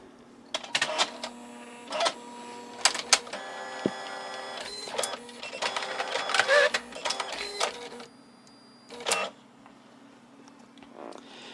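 An Epson Stylus Photo 750 inkjet printer, powered up after over 15 years, runs a cleaning cycle, whirring and clicking in bursts of mechanical motor noise, stopping and starting several times with quiet gaps between.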